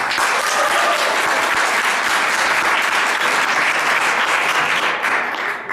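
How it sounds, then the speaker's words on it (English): Sustained applause from a sizeable crowd, a dense wash of clapping that holds steady for several seconds before tapering slightly at the end. "let's all give a round of applause for Milwaukee SDS"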